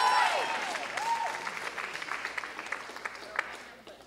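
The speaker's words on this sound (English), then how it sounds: "Give yourself a hand clap." Audience clapping swells then thins out, with a few scattered claps and a raised voice at the start fading under it.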